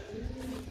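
A pigeon coos softly during the hot month of Jeth, giving a short, steady, low throaty note that lasts under a second against a quiet outdoor background.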